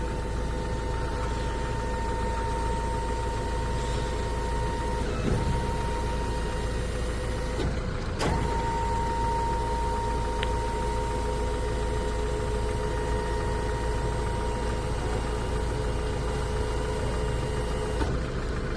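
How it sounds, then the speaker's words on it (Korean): A power tailgate lift on a Hyundai Porter 2 truck runs with a steady loud motor hum and whine, broken by a couple of brief clunks partway through, close by and without talk. "파워게이트 작동 영상입니다 이거는 열었다 닫았다"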